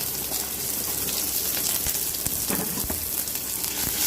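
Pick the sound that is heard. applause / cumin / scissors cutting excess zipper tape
cumin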